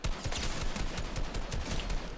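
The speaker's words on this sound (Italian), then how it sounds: "sento degli spari qua nella foresta" Rapid bursts of gunfire in a forest area of the video game Fortnite, dense overlapping shots crackling steadily throughout with no speech.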